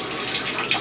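Cold water running steadily from a faucet in a 1988 Bluebird Wanderlodge FC35 motorhome, a close, continuous hiss of flow with no talking over it.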